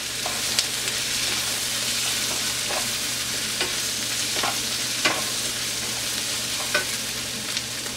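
Onion, ginger, green chilli and turmeric powder fry in a pan for a Kerala-style chicken roast, a steady close sizzle broken by repeated scraping stirs of the spoon.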